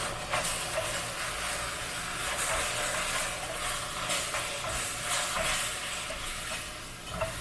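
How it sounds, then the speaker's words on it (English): Milk mixture being stirred into sooji in a hot pan, a steady bubbling sizzle and hiss with soft scraping strokes running continuously throughout, close and fairly loud. "And now I will add my milk mixture and keep stirring it."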